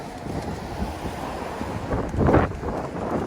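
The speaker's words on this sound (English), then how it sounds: "It's very windy." Strong wind gusting along a city street at night in Philadelphia's Kensington area, a loud continuous rush buffeting the microphone and swelling into a heavier gust near the end, with no voices.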